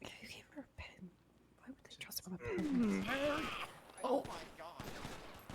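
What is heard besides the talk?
gunfire in GTA V NoPixel roleplay video game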